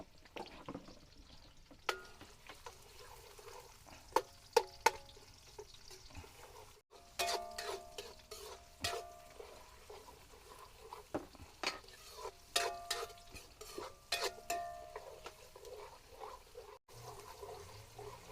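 Onion and garlic sautéing in a pan before shrimp are added, with intermittent sizzling and spatula stirring scrapes, some sharp clatters, and a brief pause partway through, no talk.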